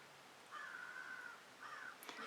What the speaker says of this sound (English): I got some noisy crows outside my window today.